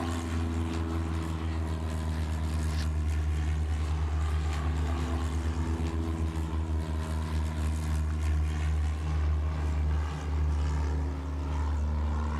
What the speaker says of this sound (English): we got some planes taking off